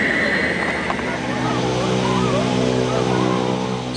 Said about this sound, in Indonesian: Sebuah pesawat terbang.